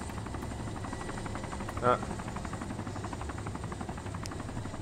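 A helicopter in the video game DayZ drones steadily throughout with a rhythmic rotor buzz, while a voice briefly speaks over it partway through.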